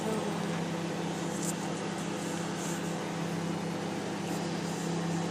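Steady mechanical hum of a microwave oven running, a constant low drone with faint clicks, unbroken for the whole stretch and no talking, while making homemade lipstick.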